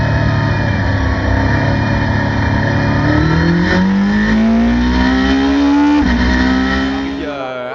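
A pack of Ferrari 458 GT race cars leaves the start of a race, their engines loud and droning together before one car revs up in a rising climb, with a shift near the end.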